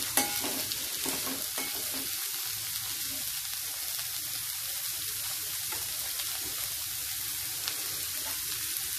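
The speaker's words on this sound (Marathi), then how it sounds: "परत मध्यम गॅस ठेवून आपण ही चवळी साधारण 1 मिनिट परतून घेऊ।" Cowpea pods stir-fried in a pan over medium heat, a soft continuous sizzle with light scraping stirs and occasional clinks, no voices.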